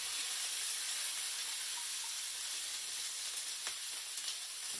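Orange sesame shrimp stir fry ingredients sizzle steadily in a hot pan, a bright continuous hiss with a few faint clinks, and no talk.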